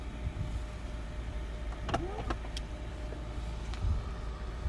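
The hands-free power liftgate on a 2021 Chrysler Pacifica Pinnacle opens with faint motor whirs and a couple of short mechanical clicks and chirps over quiet low background rumble, with no voices.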